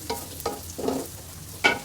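Onions and torn green chillies fry in hot oil in a large kadai. A few short, close scraping stirs rise over a faint sizzle, with no voices.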